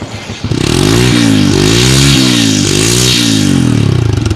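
A Monarch Axis 125 motorcycle engine runs steadily after starting, revved up and down several times in loud, close, rising and falling sweeps with no talking.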